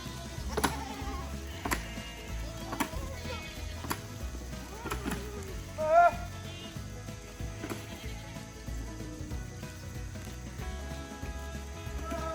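Goats bleat on a farm while being walked down with a bucket of feed toward a chute, a few calls spread over a low rumbling background with one louder bleat standing out.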